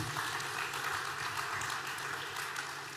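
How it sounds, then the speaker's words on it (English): An audience at a corporate launch event for d.light applauds after a video is shown, producing a continuous, even roar of clapping throughout. "I think that video deserves another round of applause"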